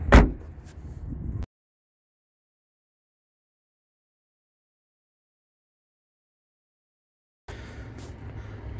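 A 2022 Toyota Prius Nightshade AWD car door closes with one sharp, close thump at the start. Near-total silence follows for several seconds, then soft cabin rustling returns.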